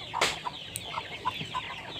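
Free-range village chickens cluck in short, scattered bursts at moderate distance on an Indonesian smallholder farm, with no talk over them.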